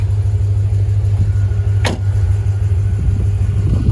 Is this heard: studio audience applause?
no